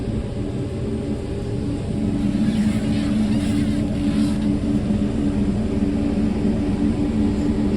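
Three-wheeled tractor engine running steadily and pulling away, a loud continuous low drone that swells slightly, near and alone.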